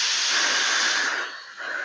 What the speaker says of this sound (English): Yeah, that's spraying pretty good.